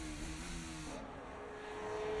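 Race car engines whine in the F1 23 video game during a wheel-to-wheel battle down a straight. The engine drone is steady and dense, with a pitch shift partway through.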